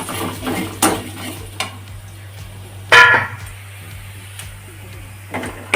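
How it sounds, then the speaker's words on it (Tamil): Onions and okra being sautéed in a pan with mustard seeds: occasional spatula scrapes and metallic clinks against the pan over a steady low hum, with one sharper clatter and a bit of nearby speech. "ஒரு இதுக்கு நல்லா வெங்காயம் நல்லா வதக்கிக்கலாம். வெண்டைக்காய் வதக்கிக்கலாம்."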